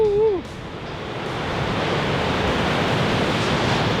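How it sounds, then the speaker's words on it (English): Strong wind blowing on Sodwana Beach, a loud steady roar mixed with surf that builds and holds after a brief whistle at the start. "Yee, the good wind pumping."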